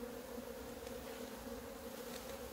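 A swarm of native Korean honeybees buzzes steadily and up close, a continuous droning hum with a clear pitched tone and no voices.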